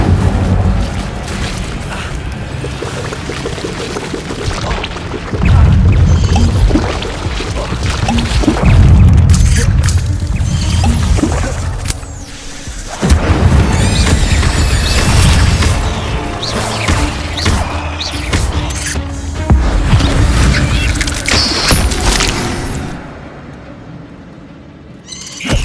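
Incendio fire spell from Hogwarts Legacy, heard as loud, heavy booming blasts and roaring whooshes that surge and fade in several waves, then drop away near the end.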